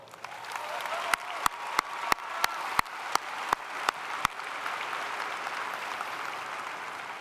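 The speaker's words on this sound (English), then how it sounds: "How about a round of applause?" Steady, dense applause from a large audience at a WVU Eberly College of Arts and Sciences graduation ceremony, with a few sharp, regular clicks standing out over the first half before the clapping settles into an even roar.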